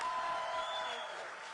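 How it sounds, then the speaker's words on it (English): A crowd applauds at a Kamala Harris event at the US-Mexico border in Arizona, a steady, fairly distant wash of clapping that fades slightly over a brief moment. "Please, can we applaud?"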